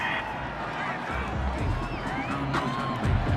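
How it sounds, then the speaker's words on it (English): A home crowd in the Madden 21 football video game cheers and roars after a penalty call in a Colts at Bills playoff game, a steady broad wash of noise with rising whoops, heard under commentary. "This home crowd, they're happy with that call."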